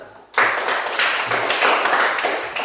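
Classroom audience clapping together, a steady burst of applause starting abruptly and sustained close by for a few seconds.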